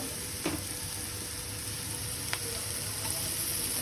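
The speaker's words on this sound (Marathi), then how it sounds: "आता आपण टाकूया थोडंसं टोमॅटो" Tomato sizzles in a pan with ginger, garlic and chili paste while cooking palak paneer, a steady close frying hiss with a couple of faint utensil clicks, no speech.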